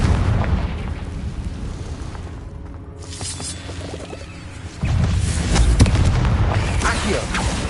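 Confringo fire spells burst into loud booming explosions in the video game Hogwarts Legacy. Rumbling blasts fill the first three seconds, and a heavier explosion hits near the five-second mark and echoes on.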